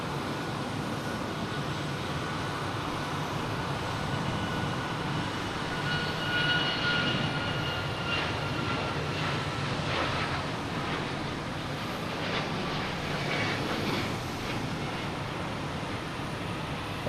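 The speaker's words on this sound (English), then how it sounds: "Next takeoff is Southwest, heading to Denver." A Southwest airliner takes off at Boston Logan Airport in the evening, a steady broad engine roar at a distance that holds level throughout, no voices.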